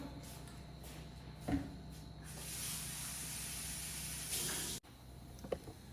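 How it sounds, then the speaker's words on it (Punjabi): Running water rinses cut onions in a home kitchen, a steady soft hiss of flow for a few seconds before it cuts off abruptly, with a small clunk or two around it. "ਪਿਆਜ਼ ਆਪਾਂ ਧੋਵਾਂਗੇ ਹੁਣ"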